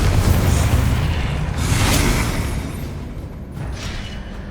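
Confringo fire-spell blasts in the Hogwarts Legacy video game, loud booming bursts that swell and fade over a dense rumble, with a second explosion following the first.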